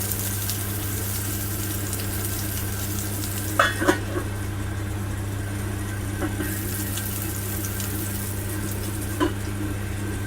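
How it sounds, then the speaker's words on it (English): Plant-based sausage burgers fry in a pan with a low, continuous sizzle and soft bubbling, under a steady hum from a nearby appliance, with a few brief clinks or scrapes. "We've got bubbling going on all around."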